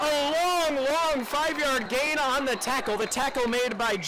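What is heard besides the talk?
None of the usual background noises is heard.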